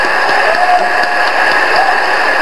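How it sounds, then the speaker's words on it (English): An audience applauds an orchestra at Nintendo's E3 2011 event, a dense, steady wash of clapping from a large crowd, loud and continuous. "let's give a big round of applause for our orchestra today,"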